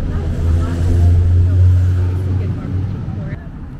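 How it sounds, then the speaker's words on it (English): A four-wheeler ATV engine drones low and steady during a wheelie on a Los Angeles Chinatown street, rising slightly then easing off, with voices talking over it. "He's still doing the wheelie on that four-wheeler."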